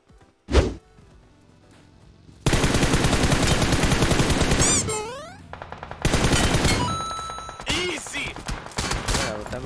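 Rapid gunfire from a video game shooter, dense bursts of shots with metallic impacts and electronic effects, loud and sustained across most of the stretch, with a brief gap in the middle.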